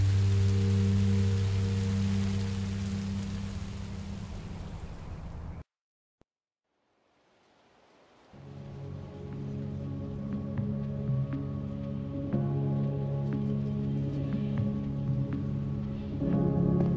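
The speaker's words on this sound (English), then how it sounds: "Rain is better than monsters." Rain falls in the Minecraft Story Mode video game, a steady hiss that cuts out for about two seconds, then returns more faintly alongside low tonal game ambience.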